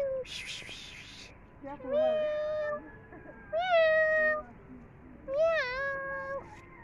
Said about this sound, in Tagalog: May pusa, nag-iisa.